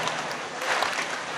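Dense clapping from a kirtan audience at a death-anniversary gathering, a steady crowded patter filling the space without a clear shared beat.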